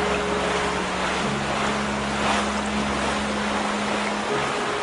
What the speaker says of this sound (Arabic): العاصفة تشتد، أقترح أن نعود إلى الشاطئ